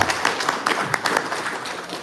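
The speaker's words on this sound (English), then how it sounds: "Let's give a clap." Brief round of audience clapping at a lecture gathering, a short burst of scattered claps from a modest crowd lasting about two seconds.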